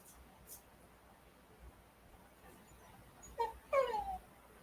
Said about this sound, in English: Oh, I hear the puppy begging.